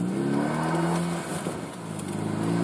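A 2013 Hyundai Veloster Turbo with a custom Magnaflow exhaust pulls hard from inside the cabin, with a loud droning exhaust note that holds steady, sags briefly midway, then swells again, and no talking.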